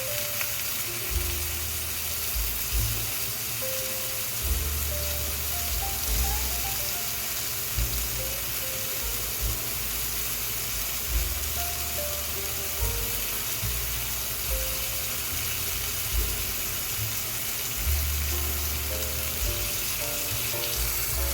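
Maple balsamic pork chops fry in a pan with their sauce, making a loud, continuous sizzle with a steady crackle. A low, faint, rhythmic hum sits beneath it, and no one speaks.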